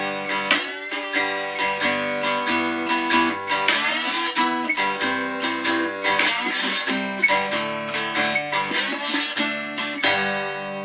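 A cigar box guitar fingerpicked through a chord-based passage, with bright plucked notes and steady, repeating rhythmic attacks that ring clearly on their own, without talk.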